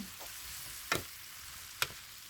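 Noodles for beef fried ramen fry in a pan with a steady, soft sizzle, broken twice by sharp clinks of a utensil against the pan, close up and with no talking.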